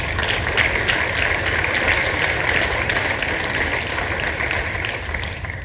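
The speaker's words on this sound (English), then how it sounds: "Let's give them a round of applause." An audience in a school gym applauds steadily, a dense, even wash of many hands clapping that stays loud throughout, with no talking over it.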